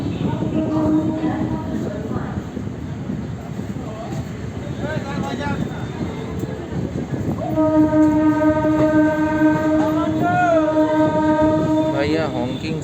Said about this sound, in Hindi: भैया हॉन्किंग सुनिए इस ट्रेन को, अच्छा हॉन्किंग।